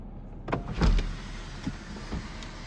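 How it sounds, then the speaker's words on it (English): A sunroof motor on a 2013 Lexus GS350 whirs faintly and briefly inside the cabin, with a few soft clunks as the glass panel opens and the wind deflector pops up. "And then you get your sunroof controls, which this one has a sunroof."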